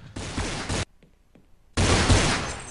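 Counter-Strike gunfire on de_mirage comes in two loud bursts of rapid shots separated by a short lull holding a few faint clicks.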